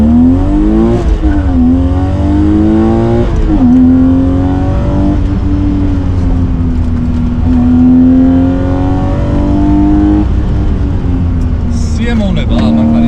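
A BMW 3 Series engine drones loudly from inside the car while driving, its pitch repeatedly climbing under acceleration and dropping as it shifts through the gears.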